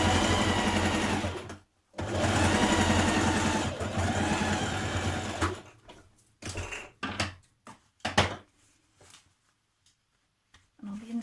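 A sewing machine runs a straight stitch down a pocket seam, one long steady whirring burst and another, then short stop-start runs with pauses and quiet gaps near the end.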